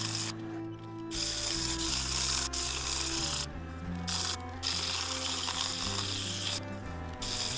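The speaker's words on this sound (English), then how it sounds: "I have sanded down with 40 grit," Claret ash wood bowl being sanded with 40 grit sandpaper on a lathe, a steady close rubbing rasp with a constant low motor hum, broken by a few short pauses.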